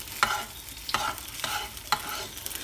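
Food frying in a pan being stirred, four evenly spaced scraping strokes over a low sizzle, close and clear with no voices.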